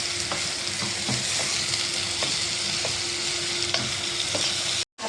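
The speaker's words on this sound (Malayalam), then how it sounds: "ഇതും കൂടെ കൂട്ടി നമുക്ക് വഴറ്റിയെടുക്കാം" Cinnamon pieces and bay leaves sauté with onion in a pan for a homestyle chicken curry, giving a constant close sizzle with periodic spatula scrapes, ending in a brief silence.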